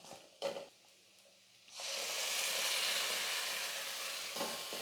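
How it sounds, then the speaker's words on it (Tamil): Ground masala hits hot oil in a pan for goat head curry and sizzles loudly and steadily for several seconds, after a quieter start with a brief stir or clatter. "இப்போ நம்ம அரைச்ச மசாலா இதில் சேர்த்து நல்லா வதக்கிக்கலாம்"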